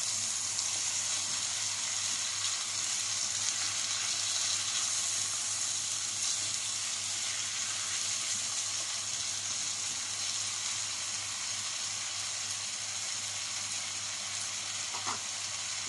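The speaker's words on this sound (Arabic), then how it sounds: "نشمع البطاطس كده" Potatoes sauté in a pan with onion and tomato, frying in a steady, unbroken sizzle up close, with occasional faint stirring.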